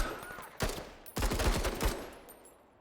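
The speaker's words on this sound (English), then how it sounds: "Let's just take 2 more shots here." Gunfire in the turn-based tactics game Menace: two loud, close bursts of rapid shots, the second longer, with a short gap between them and a fading tail afterward.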